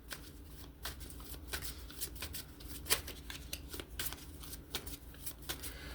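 Tarot cards are shuffled close up and quietly, a run of soft papery riffles and flicks repeating in uneven bursts.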